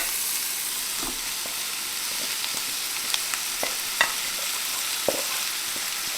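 Steak strips, onions and other vegetables frying in butter make a continuous loud sizzle, broken by scattered scrapes and taps from stirring.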